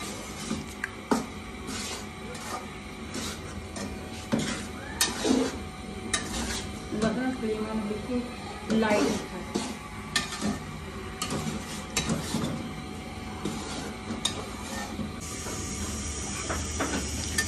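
Gram flour and semolina roast over a low flame in a kadhai while a spoon stirs and scrapes continuously, producing irregular metallic clinks and scrapes over a soft sizzling hiss.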